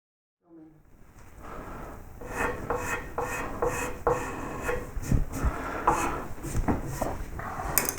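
A hand tool scrapes and pares wood away from the bill of a carved wooden baseball cap in irregular rasping strokes with small knocks, close and fairly quiet.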